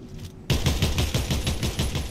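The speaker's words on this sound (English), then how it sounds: "I hear some jump shot gunshots going off over there." Rapid gunfire bursts in Fortnite: a dense run of repeated shots starts abruptly after a brief quiet lead-in and keeps going loud and close.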